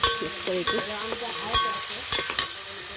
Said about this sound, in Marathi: कांदा टाकले तर कांदा परतवते